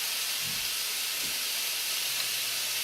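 A cod fillet fries in a pan, giving a steady, close hiss and sizzle that runs unbroken throughout, with faint low knocks underneath and no voices.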